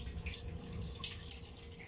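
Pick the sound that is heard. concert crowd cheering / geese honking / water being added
water being added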